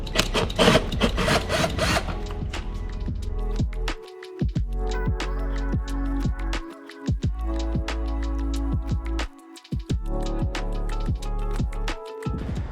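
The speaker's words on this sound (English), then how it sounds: "we're gonna remove all these Phillips head screws" A power screwdriver whirs in repeated bursts with short pauses between, a close mechanical buzz with scattered clicks and rattles as Phillips head screws come out of an Aprilia RS 660 motorcycle.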